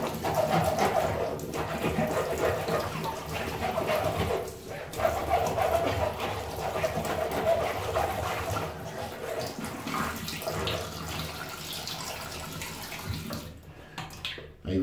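Steady rush of running water from a kitchen tap as a goalkeeper glove is rinsed beneath it, continuous and fairly close, with a dog barking faintly at times.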